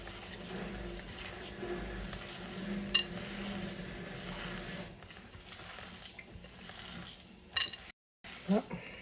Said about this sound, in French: Et là, je vais mélanger tout ça.